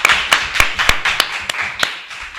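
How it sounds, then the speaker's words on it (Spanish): A small audience claps for a podcast guest, a short burst of about eight sharp, close, evenly spaced claps that thin out toward the end. "Un aplauso para él."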